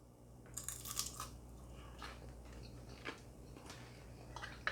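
Crispy air-fried chicken skin cooked on an air fryer grill, crunched in several loud, close bites with sharp crackling bursts over a steady low hum, no talking.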